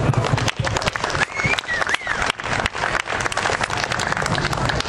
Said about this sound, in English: if you would join me in applauding them